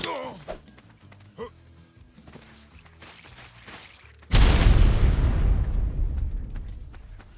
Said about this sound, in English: I think that grenade went the wrong way